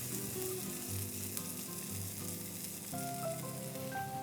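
A hot tempering with sliced shallots sizzles as it is poured into buttermilk Moru curry with coconut, a steady close crackling fry with faint clinks, and no voices.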